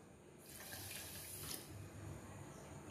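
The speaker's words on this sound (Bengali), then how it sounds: "যেই বাটিতে আমি চিনি দিয়েছিলাম ঠিক সেই বাটিতেই মাপতে হবে জলটা, সেই বাটির হাফ বাটি জল দিতে হবে" Water runs into a pan of sugar for jalebi syrup, a soft steady pouring stream that swells briefly and then trails off, faint and close with no talking.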